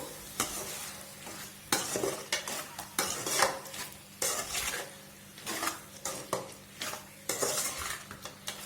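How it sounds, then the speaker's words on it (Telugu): Chicken gravy being stirred in a pan: a utensil scrapes and clinks against the metal in repeated rhythmic strokes over a soft sizzle from the cooking, close by, with no speech. "ఇలా ఒక నిమిషం పాటు బాగా కలుపుకుందామండి"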